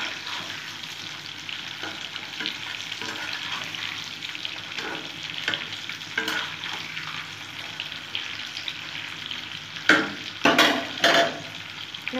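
Sweet-sour mango pickle being stirred and fried in a pan, with continuous sizzling and scraping of the spoon, several sharper clatters near the end.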